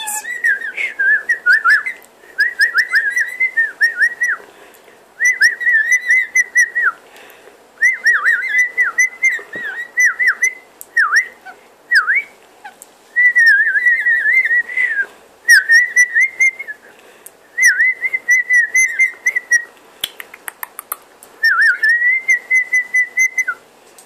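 A rainbow lorikeet in a laundry whistles loudly and close by, a long run of repeated shrill whistled phrases broken by short pauses, alone with no talk.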